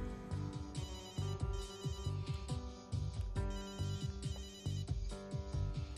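A telephone ringing with a melodic electronic ringtone, repeating loud rhythmic tone patterns continuously and close, alone without talk.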